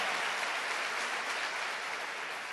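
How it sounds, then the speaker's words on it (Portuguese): Applause from a church congregation, steady and dense throughout, moderately distant with no voices over it. "Vamos dar uma salva de palmas para Jesus, ó."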